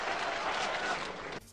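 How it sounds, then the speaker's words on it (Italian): Dense applause from a crowd, steady and fairly loud, then cutting off abruptly near the end. "Bravo! Bravo! 92 minuti di applausi."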